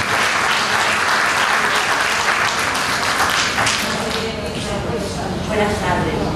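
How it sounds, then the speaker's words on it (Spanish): An audience at a village cultural-week talk on back rehabilitation gives a loud, sustained round of applause to welcome the speaker, with dense clapping throughout that eases slightly near the end. "Pues vamos a recibirla con un fuerte aplauso a María Teresa."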